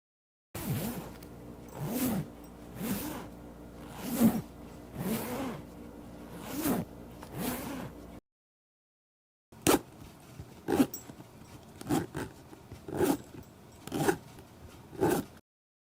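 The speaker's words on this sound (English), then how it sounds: "right now I'm gonna compare the YKK Excella zippers with the Guidi branded logo to a regular YKK zipper" A YKK Excella zipper with a Guidi branded pull, on a handmade horse leather item, runs open and closed in repeated close, rasping strokes, roughly one every second, in two bursts separated by a short pause, with no talking.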